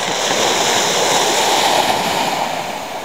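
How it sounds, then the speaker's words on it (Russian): Gentle sea waves wash steadily onto the shore at Lazarevskoye after a storm, a continuous close hiss of surf with no voices. "чуть-чуть набегает волна"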